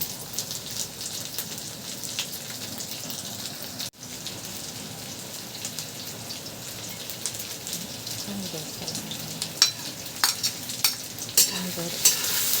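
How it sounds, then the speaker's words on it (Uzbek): Carrots and potatoes fry in a pan with a steady, close crackling sizzle throughout, sharper pops and spatters growing toward the end, with no talk over it. "Mana qovuriladi."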